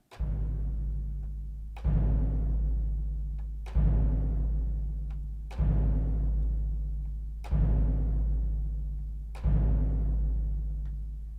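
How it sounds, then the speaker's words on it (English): Six deep booming bass drum hits from the Royal Albert Hall organ's pedal-triggered bass drum sample, evenly spaced about two seconds apart, each ringing out and decaying slowly before the next. "it actually has a pedal that triggers a bass drum. So this is that sound."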